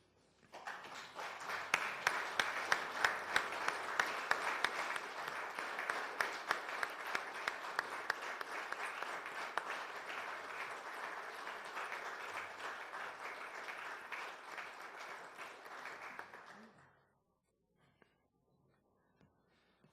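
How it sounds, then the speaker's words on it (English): Applause fills the Idaho Senate chamber as a congressman comes forward to speak: steady, dense clapping from a crowd for about sixteen seconds, then it stops abruptly and the room falls quiet. "Well, that was an awful lot of clapping."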